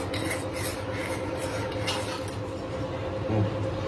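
A spoon stirs thin khichdi for a baby as it cooks in a pot over low heat, giving soft, continuous scraping and rubbing against the pot bottom, close and fairly quiet, with no talk.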